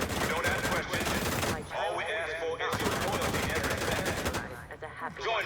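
Gunfire in a video game, two long rattling bursts of rapid automatic fire, loud and close, separated by a short gap with faint voice-like sound.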